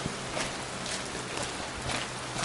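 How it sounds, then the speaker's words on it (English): Steady rain falls outside in January, a dense, even hiss of drops on surfaces with slight swells in intensity, no voices. "Rain, rain, and more rain."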